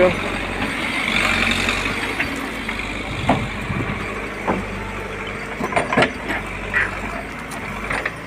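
Someone's 855 tractor works on a village cleanup, its diesel engine droning steadily in the background with occasional knocks and clatters while people talk nearby.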